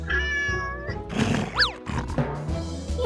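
A pet cat meows several times at close range, drawn-out and rising-falling cries, fairly loud, with no talking over it.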